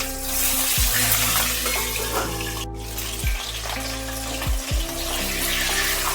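A whole Bhetki fish head fries in mustard oil with a continuous close sizzle, while a low steady hum and a few brief thumps sit underneath.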